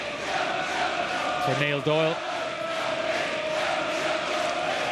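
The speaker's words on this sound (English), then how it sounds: "Crowd really vocal at the moment" A football crowd at a Shelbourne versus Drogheda United match keeps up a steady roar of chanting and cheering under a commentator's voice, with a brief horn-like call rising above it.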